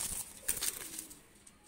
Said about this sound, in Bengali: তো দুইটা কবুতর ছেড়ে দেখাচ্ছি দেখেন।